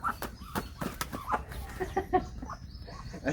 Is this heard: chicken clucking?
yes